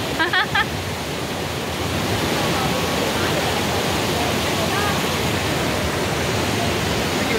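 A small waterfall at Johnston Canyon, Canada, pours with a steady, close broadband rush that holds evenly throughout, with a voice briefly audible at the start.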